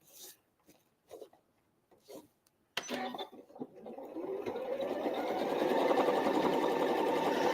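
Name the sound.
sewing machine stitching a seam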